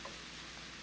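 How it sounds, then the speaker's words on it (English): Salisbury steak sautéing in a pan, a steady, quiet sizzle and crackle of frying meat that runs evenly through a brief moment with no voices. "Just get a nice saute"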